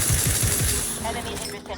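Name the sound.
gunfire in video game The Outer Worlds 2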